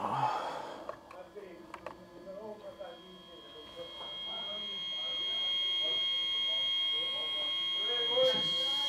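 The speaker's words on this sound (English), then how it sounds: "Someone set the fire alarm." A building fire alarm in a fire-damaged building starts partway through as a steady, piercing electronic tone after some quiet talking and breathing, then holds on continuously.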